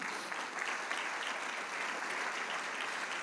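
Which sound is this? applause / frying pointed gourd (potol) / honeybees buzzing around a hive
applause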